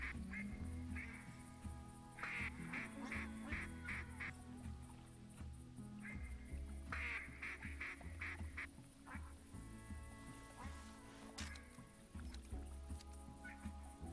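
Ducks in the hunting game Call of the Wild quack in repeated bursts, several calls clustered together then spaced out, moderately near over a faint ambient outdoor background.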